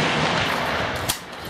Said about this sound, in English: this is the 338 Lapua 700P with a Sendero stock, 300 grain Sierra doing 2550 T3 Terminator brake